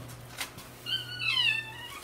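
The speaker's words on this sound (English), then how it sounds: "It's a very needy little kitty." A needy little kitty meows several times in a quiet room, the cries rising and sliding over a low steady hum, fairly close and with no talk over it.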